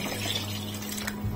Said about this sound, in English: so I'm just going to go in with some water